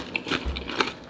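Sharp crunchy bites into a freshly fried corn tortilla, several quick crackling crunches close to the mic, spaced irregularly with brief pauses between them.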